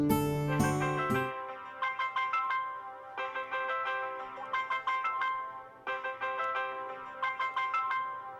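A phone ringtone plays a bright, repeating electronic melody in short looping phrases, clear and close, after a brief burst of other sound at the start, with no talking over it.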